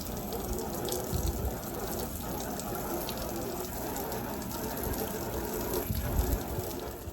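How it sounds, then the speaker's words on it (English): Water sprays steadily to rinse cleaner off outside windows, a continuous close hiss and splatter of running water with little variation throughout. "Okay, gotta rinse it off."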